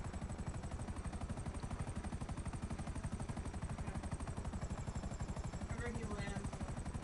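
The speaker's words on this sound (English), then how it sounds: "He's bringing the chopper up to you." Helicopter in GTA V flying in close with a steady, rapid rotor chop that stays loud throughout, with people talking over it.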